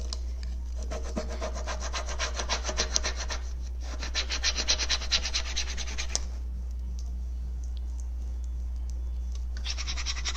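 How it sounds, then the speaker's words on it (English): Steady back-and-forth rubbing and scratching of a transfer being burnished onto a wooden end table surface, close and continuous in two long passes, a pause, then resuming near the end. "you do want to make sure you get the entire surface of the transfer rubbed on"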